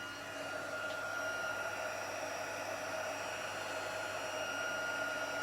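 A heat tool blows a steady, even whoosh at close range while melting white embossing powder on black cardstock, running alone without pause.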